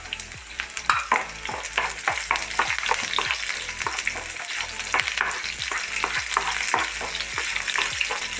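Shallots, green chilies and curry leaves fry in a pan, stirred with a spoon that scrapes in a steady, quick rhythm over a continuous loud sizzle, with no voices.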